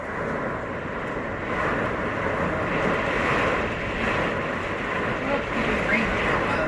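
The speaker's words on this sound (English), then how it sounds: "That is incredibly strong wind." Strong storm wind roars steadily outdoors at a Myrtle Beach campground, a broad continuous rushing noise that swells slightly midway, with no speech.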